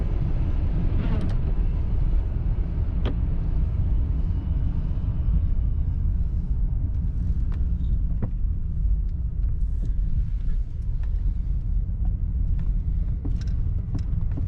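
Steady low road rumble fills the cabin of a 1986 Lincoln Mk VII with an automatic transmission as it drives on a wet road, with faint clicks and small bumps scattered through, and nobody talking.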